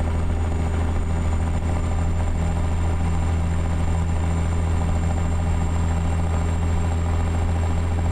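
Cat 3406B truck engine in American Truck Simulator, pulling a 21,000-pound load at highway speed: a steady, loud, droning diesel hum with a constant low rumble and a faint high whine, no voices.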